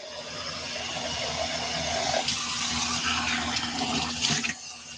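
Water running from a tap and splashing into a container to mix a seafood soup base, a steady rushing flow throughout that swells and then cuts off near the end, with no talk.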